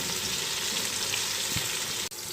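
Vegetables and tomatoes roast in oil in a pan, giving a steady soft sizzle with a faint stir partway through.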